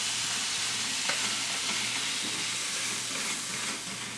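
Tomatoes and zucchini spaghetti sizzle and fry steadily in a pan, a continuous close hiss with faint stirring scrapes and a low hum underneath.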